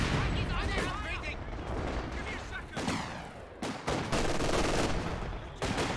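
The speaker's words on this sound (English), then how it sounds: "now it's going to have a tough time against the double Soviet mortars and the British mortar pit" Mortar fire from Soviet mortars and a British mortar pit in Company of Heroes 2, a 2v2 match, sounding as dense, overlapping explosive thuds and booms in a continuous barrage with a few sharper blasts.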